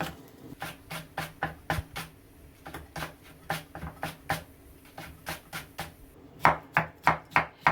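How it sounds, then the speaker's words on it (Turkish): Steady knife chopping of eggplant on a cutting board, a rapid series of crisp close taps that speed up and grow louder toward the end. "ben biraz daha orta şu şekilde doğradım"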